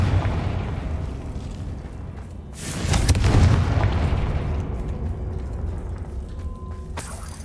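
A booming blast from the Bombarda explosion spell in Hogwarts Legacy erupts midway through a low rumbling background, a loud burst that decays into lingering rumble.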